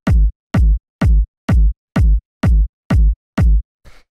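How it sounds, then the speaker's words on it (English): A punchy, fat kick drum sample from a 127 BPM tech house loop, run through saturation, strikes eight times in a steady, evenly spaced pulse, loud and alone. "First sound we have here is the kick, which sounds like this."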